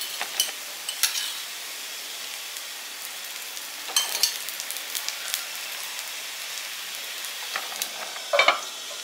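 Sweet potato snack frying in ghee in a pan, with a soft continuous crackle and scattered pops and sharper spatters, a few louder clusters as pieces are turned over, close and moderately quiet with no talk.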